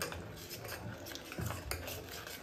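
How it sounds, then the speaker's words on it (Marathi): Utensil scraping and clinking against a pot or bowl as jaggery is stirred into a thickened kulfi milk mixture, soft and close, continuous with a few sharper taps. "आता आपण यामध्ये मिक्स करून घेऊया"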